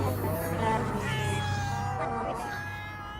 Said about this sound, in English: Was that a cat meowing I heard?